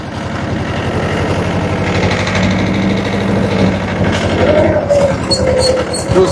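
Farm engine chugging in first gear after bouncing too much in second, a rhythmic, pulsing thump that holds steady and close, with a voice talking over it for much of the time.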